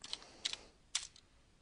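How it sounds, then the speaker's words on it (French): A handful of quick, crisp keystrokes on a computer keyboard type out a short word. The keys sound close and clear in quiet surroundings. "Je tape Tokyo."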